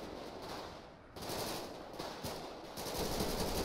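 Gunfire in GTA 5 during a military-style mission, a steady run of rapid shots with automatic bursts at moderate loudness, growing denser toward the end, with no talking.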